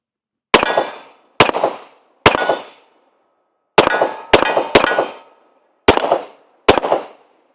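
A Sig Series X 1911 pistol fired without a suppressor, eight sharp loud cracks in irregular groups, each with a short ringing decay, nothing else heard between.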